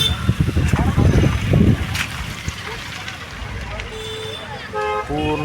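Vehicles passing on a foggy, cold hill road, with a rushing swell of traffic noise up front and then short horn toots near the end, while a person talks over it.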